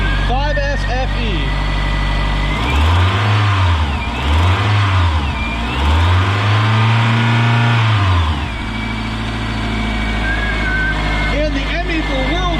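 The 2.2-litre 5S-FE four-cylinder in a 1991 Toyota MR2 runs steadily, then revs in three rising and falling sweeps before settling back to idle, with voices talking over it.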